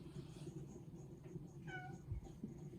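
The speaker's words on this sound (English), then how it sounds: "He is a vocal kitty." Jupiter, a male house cat, gives a faint, short meow far in the background beneath a low, steady hum, a single rising-and-falling call about midway through.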